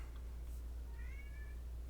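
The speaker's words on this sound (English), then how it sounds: "My cat is meowing" A pet cat meows once, a short, faint call in a quiet room, heard alone with no voices around it.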